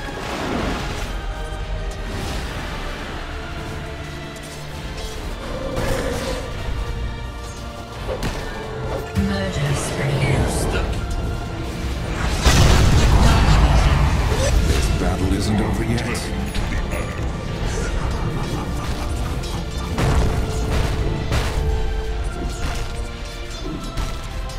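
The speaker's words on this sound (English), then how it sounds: "Radiant's middle tower has been destroyed." A Dota 2 tower crumbles under attack with loud smashing and crashing impacts amid ongoing battle whooshes and hits, while an announcer voice speaks over the fight.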